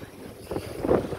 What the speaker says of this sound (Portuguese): O vento tá favoradíssimo.